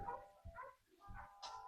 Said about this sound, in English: Got all the dogs barking in the background.